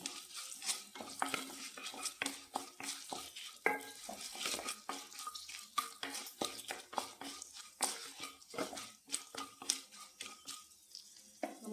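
A tempering with a pinch of asafoetida frying in a pan, faint crackling sizzle broken by frequent light spoon scrapes and taps of stirring.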